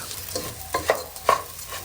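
A spatula scrapes and stirs food frying in a pan at home, giving three or four sharp, close metallic scraping strokes over a soft background sizzle.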